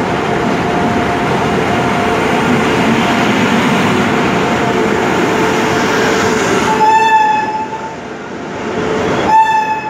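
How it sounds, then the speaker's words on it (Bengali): The Tambaram–New Tinsukia Express arrives at a station platform with a loud, steady rumble of rolling wagons, then sounds two long horn blasts near the end as the clatter eases, with no voices. "ট্রেন 2 নম্বর প্ল্যাটফর্মে আসছে"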